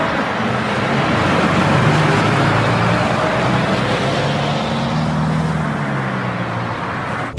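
A box truck engine runs loud and steady with a continuous low rumble throughout, mixed with general road traffic noise and no speech.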